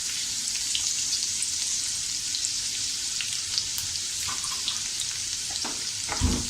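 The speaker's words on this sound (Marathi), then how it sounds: "हे व्यवस्थित छानपैकी आपण परतून घेऊया।" Green chillies, ginger and garlic sauté in a pan for bread pakoda, giving a steady close sizzle with faint stirring clicks and a louder scrape near the end.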